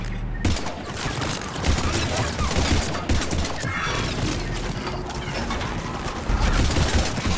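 Dense, continuous gunfire crackles through a Mass Effect 3 firefight, rapid sharp shots and impacts layered over each other at close range for several seconds, with occasional voices underneath.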